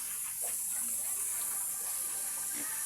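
Water pouring steadily over a piglet being bathed, a constant hissing gush that stays even and close throughout.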